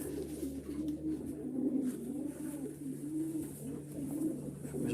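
A racing pigeon coos in low, repeated throaty rolls, several soft phrases in steady succession, close by against a constant background hum.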